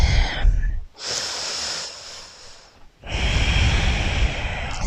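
Slow, deep breaths during a morning yoga stretch: a long airy exhale, a softer intake, then another full breathy exhale, close and alone.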